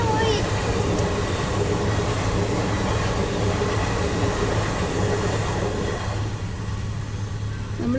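An air-conditioned passenger train rolls along with a constant, loud rumble of wheels and carriage, and faint voices murmur in the coach.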